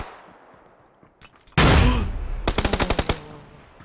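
Gunfire in PUBG: a loud sustained burst opens suddenly, then a rapid automatic string of about ten sharp shots follows, close and dominant, with a brief quiet lead-in.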